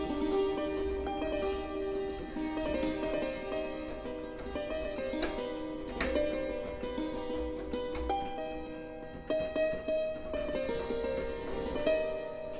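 A prototype hammered dulcimer sample instrument plays a dense, ringing run of struck metallic notes with sustained overtones, fairly loud and continuous throughout, with no talking.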